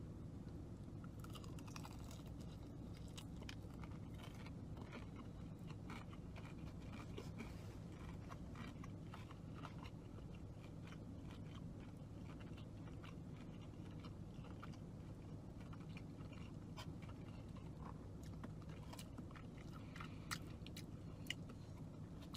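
Someone eats crunchy KFC Hot Honey chicken tenders up close, with soft, repeated chewing and biting and scattered crisp crunches over a quiet, steady background.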